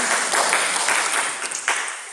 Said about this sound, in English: Incite gleeful clapping.